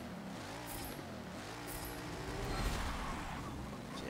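An expensive, quick all-wheel-drive sports car accelerates in the racing game Forza Motorsport 7, its engine note rising and swelling at moderate distance with no talk over it.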